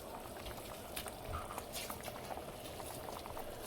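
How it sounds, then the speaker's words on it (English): Chicken tortilla soup with lime simmering in a pot, a faint, steady bubbling and popping patter heard close up and alone throughout. "We're just going to simmer this maybe another 10 minutes."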